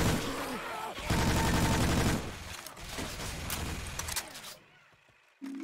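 Rapid gunfire in the video game Left 4 Dead 2 comes in loud, dense bursts with metallic mechanical clatter, then thins out and fades near the end.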